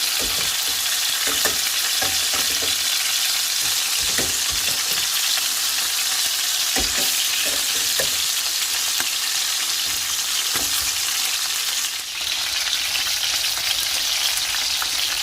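Chicken pieces frying in oil in a home kitchen, a loud, steady crackling sizzle that goes on without a break, with scattered pops and spatters close by and no voices.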